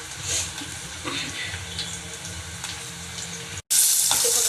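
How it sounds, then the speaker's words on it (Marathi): Onion fries in oil in a pan with a steady close sizzle and faint crackles, then a sudden louder hiss bursts in after a brief cut. "मी इकडे कांदा भाजायला टाकलेला आहे"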